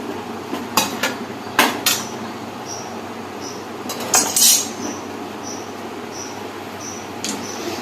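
A metal pot lid pressed down over foil on a biryani pot, giving a few sharp clinks and clatters near the start and middle, with faint crinkling between and a quiet background otherwise.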